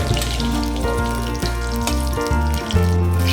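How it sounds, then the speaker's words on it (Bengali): Eggplant pieces deep-frying in leftover hilsa fish oil, a steady close bubbling sizzle with watery crackle throughout, carried under a continuous tonal music bed. "সেই মাছ ভাজা তেলের মধ্যেই আমি এবার বেগুনগুলোকে ভালো করে ডিপ ফ্রাই করে নেব"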